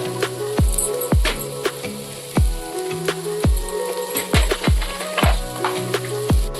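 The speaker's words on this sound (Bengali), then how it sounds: "এরকম আমাদের ভাজাটা কিন্তু হয়ে গেছে মশলা দিয়ে" Oil sizzles steadily in a pan while a spoon clacks against it in regular sharp strikes as turmeric and coriander powder are stirred and fried.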